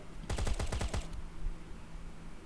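Rapid burst of automatic gunfire in the survival video game Last Island of Survival, about seven close, loud shots fired in quick rhythm, then a brief fading tail with no talk.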